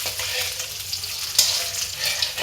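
Green chilies fry in oil in a pan, giving a close, steady hiss of sizzling with a brief sharper crackle partway through.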